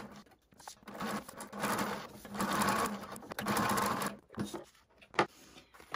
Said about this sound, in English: I am going to sew inside the cutting line, between the cutting line and the edge of the finished block.